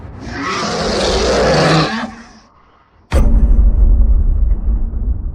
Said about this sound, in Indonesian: Ada suara auman gitu?